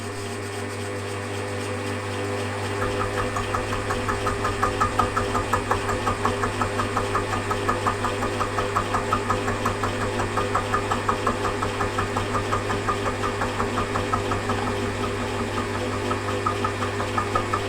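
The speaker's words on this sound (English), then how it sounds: "So I'm just going to plunge cut here. And the machine's in reverse." A machine plunge cutting a three-lobe camshaft for a small V-twin engine while running in reverse: a steady mechanical hum with a constant low drone and a rapid, even rhythmic chatter throughout, close and unbroken, no talk.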